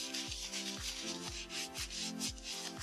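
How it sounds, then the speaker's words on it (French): Self-tanning mousse rubbed onto a hand and forearm in circular motions makes a close series of soft, rhythmic swishing strokes, about six in quick succession. "J'applique un peu de mousse comme suit et je vais aller sur ma main, mon avant-bras, toujours en mouvement circulaire."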